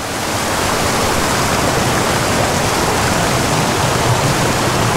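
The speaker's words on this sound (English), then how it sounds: "It's like one constant waterfall." A waterfall on a tiny, steep trout creek roars loud and close, a dense, unbroken rush of falling water that swells in over the first half second and then holds steady, with no voices.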